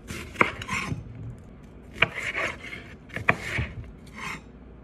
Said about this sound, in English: Okay, so I'm dicing up a red onion.